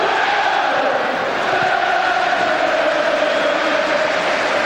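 A large football stadium crowd at a Leeds match against Prague roars as a Mexican wave sweeps round, producing a dense, steady, distant wash of voices that swells slightly without pause.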